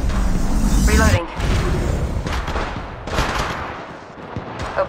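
Loud rapid automatic gunfire in Apex Legends Mobile, sustained bursts with short pauses, and a game voice speaking briefly over the shots.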